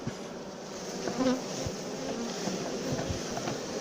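Steady, dense buzzing of many honey bees swarming close by a hive during nuc preparation for winter, a continuous droning hum with no talking.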